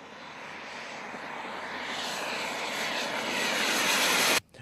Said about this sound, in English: It's a Skymaster Viper jet, which is a kit from the East.